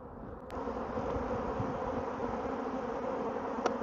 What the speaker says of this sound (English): I'd say they are swarming.